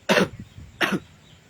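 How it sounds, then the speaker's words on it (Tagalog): Two sharp coughs from an adult, close and loud, spaced under a second apart, followed by quiet room tone. "pasensya na po sa ubo"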